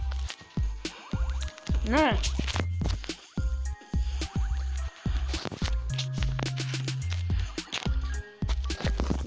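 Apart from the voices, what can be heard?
damage sound effects in Soul Knight video game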